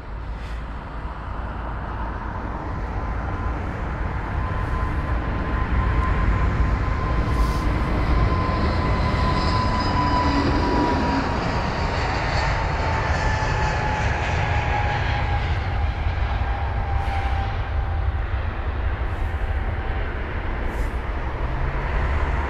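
A British Airways Airbus A321neo departs Heathrow, its engines a loud, steady broadband roar that holds for the full stretch with a slowly shifting whine, with no talk over it.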